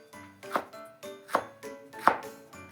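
A kitchen knife chops green bell pepper into strips on a cutting board, four crisp even knocks in a steady rhythm, close and clear with no talk.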